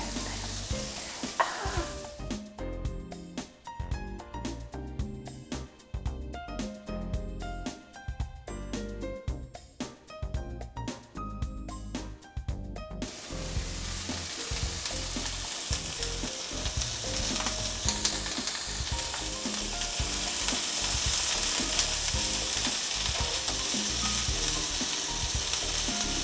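Potatoes and onions, seasoned with a little salt, fry loudly in a pan, giving a dense, continuous sizzle and crackle with some clattering stirring early on, close and alone without voices.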